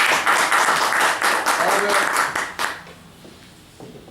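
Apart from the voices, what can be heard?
audience applause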